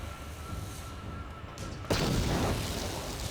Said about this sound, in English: I might toss a grenade at one.